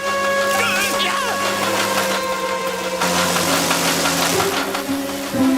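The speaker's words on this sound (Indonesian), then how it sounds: "Di mana mesin pemotong rumputku berada?" Cartoon lawn mower engine running, a continuous buzzing, rattling mechanical drone with steady knocking pulses, loud and close, with a brief shift midway and music or effects layered over it.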